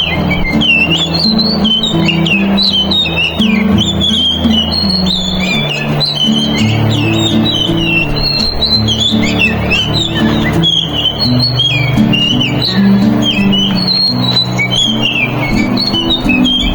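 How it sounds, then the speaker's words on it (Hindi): Birds chirp and squawk continuously in a busy morning chorus in the hills among farm fields, bright and fairly close, over a steady low background hum. "यहाँ चिड़ियों की जो चहचहाहट होती है"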